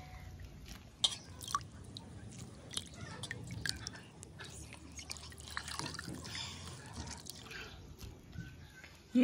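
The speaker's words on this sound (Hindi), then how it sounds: "इस पानी को हम अच्छी तरीके से स्क्वीज़ कर लेंगे और डाल देंगे इस मिट्टी के प्लेट में" Water squeezed from washed dandelion greens drips and trickles into a clay plate, with scattered close, wet drops and faint squishing over a quiet background.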